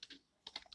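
Several quick keystrokes on a computer keyboard, two taps, a pause, then three or four more clicks, faint and close with nothing else audible.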